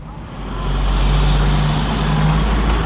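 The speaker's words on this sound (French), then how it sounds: "beaucoup de camions qui passent sur la route" Heavy road traffic near a late-19th-century house, with a vehicle such as a truck approaching and passing close by, its low engine drone swelling and holding loud and steady.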